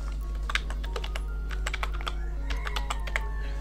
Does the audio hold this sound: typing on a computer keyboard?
yes